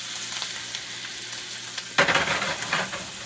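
A heaping spoonful of IHS lands in a hot pan with olive oil: faint background hiss, then a sudden loud sizzle and bubbling burst that stays busy and crackling, close up and without talk.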